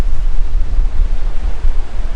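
Ocean waves wash onto the beach below an oceanfront hotel in Fort Lauderdale, heard as a steady, low rumbling surf with some wind buffeting the microphone and no talking.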